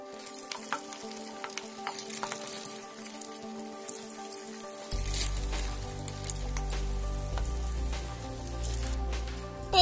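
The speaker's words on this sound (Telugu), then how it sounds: "ఇప్పుడు ఈ వడల్ని ఒక్కొక్కటిగా తీసుకొని పాన్ లో ఫ్రై చేసుకోవాలి" Bottle gourd and poha vadas frying in a pan, a steady oil sizzle with faint pops that thickens into a dense, louder crackle halfway through as more vadas go in, with no voices.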